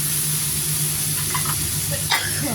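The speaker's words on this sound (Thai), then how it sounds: "ใส่ใบกระเพราเข้าไปผัด" Holy basil leaves stir-fried with mackerel in a hot pan, a loud continuous sizzle and hiss with a few stirring scrapes and a brief sharp clatter near the end.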